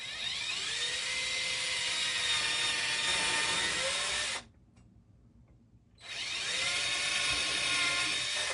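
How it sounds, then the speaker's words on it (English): A power drill whines loudly and steadily drilling holes for legs, stops for a moment of near silence, then starts up again and keeps drilling. "So I'm going to drill the holes for the legs right here."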